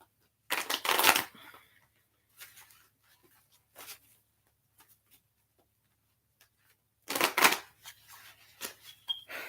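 Tarot cards being shuffled in two brisk riffling bursts, with softer scattered card taps and slides in between, close and alone.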